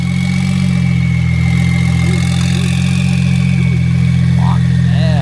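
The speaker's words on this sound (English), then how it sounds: "Here's something coming. Ooh, a Huracan." A Lamborghini Huracan engine at a car show hums with a loud steady low drone as the car draws near, and voices talk over it.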